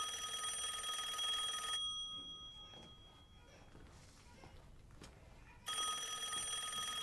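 A telephone rings with a loud electronic trill, breaks off into a quiet stretch with soft thumps, then starts ringing again.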